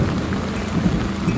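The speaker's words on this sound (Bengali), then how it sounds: "মেঘ ডাকছে কেমন দেখলে" Thunder rumbles low through heavy rain during a downpour, a dense close wash of falling water with deep booming swells underneath and no talking.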